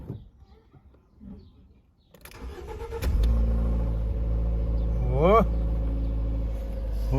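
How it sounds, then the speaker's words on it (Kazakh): A car engine cranks and catches after a battery has been refilled with electrolyte, then settles into a steady close idle with one brief rev; quiet speech and handling noises come before the start. "Все, машина от алды."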